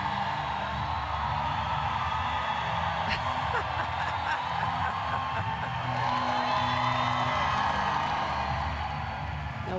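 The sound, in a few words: volleyball crowd cheering and booing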